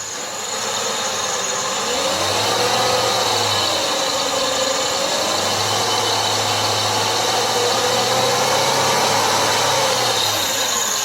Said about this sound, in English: Let me apply a little throttle here.